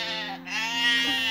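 A sheep in an open field at night gives one sustained, wavering bleat, close and loud, with no voices.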